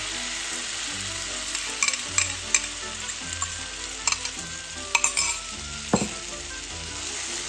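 Egg fries with sautéed bitter melon in a pan, a constant close sizzle punctuated by several sharp clinks and scrapes of a utensil stirring against the pan.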